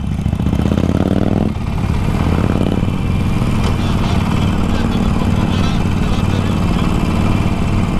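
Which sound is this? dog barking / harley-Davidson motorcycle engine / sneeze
harley-Davidson motorcycle engine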